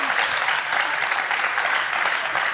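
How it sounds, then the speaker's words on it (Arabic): Studio audience applause for actress Najla Ben Abdallah on a Tunisian TV show, a brief, dense, even burst of clapping with no talk over it. "تصفيق على نجلة"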